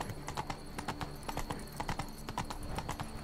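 Roach the horse gallops in The Witcher 3: Blood and Wine, with rapid, rhythmic hoofbeats that stay close and loud over a busy game soundscape.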